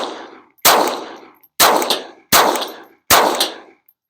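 Four sharp reports from a Taurus TX22 .22 pistol, each followed by a ringing clang from a metal target about 25 yards away, evenly paced and loud.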